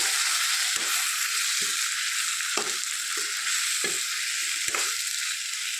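Tomatoes sizzle steadily in a pan while a drumstick (munakkada) curry cooks, with several distinct stirring scrapes cutting through the continuous hiss.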